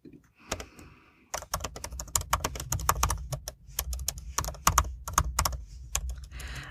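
Fast, uneven typing on a computer keyboard while a meta description and subheadings are entered, with bursts of close keystrokes and short pauses, and no talking.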